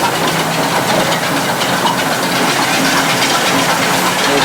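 A solar-powered oil expeller in Gaya, Bihar, crushing mustard seeds while oil and seed cake come out, gives a steady, loud mechanical drone with a constant hiss-like whirr throughout. No one speaks.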